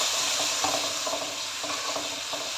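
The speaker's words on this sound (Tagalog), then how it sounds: "lutuin lang natin siya hanggang mawala-wala ang kanyang kulay, hanggang mag-brown na yan" Beef stir-fries in a hot pan with a steady, close, loud sizzling hiss, broken by soft scraping bursts as the meat is stirred and tossed.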